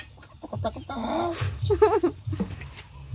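Chicken clucking and squawking in a short burst, close by, with a few sharp calls and some background voices.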